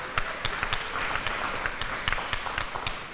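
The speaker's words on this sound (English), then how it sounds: "Let's give her a round of applause." An audience at a leadership speaker series event applauds, sustained dense clapping from a crowd filling the room at an even level for a few seconds.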